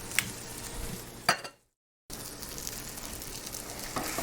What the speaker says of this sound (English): Now we'll brown the other side.